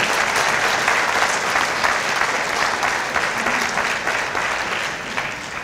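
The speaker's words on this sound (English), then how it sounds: "Give yourselves a round of applause." A large audience at the 2019 Mosque Cares Annual Islamic Convention applauds in a dense, sustained wash of clapping that fills the hall and tapers only slightly at the end.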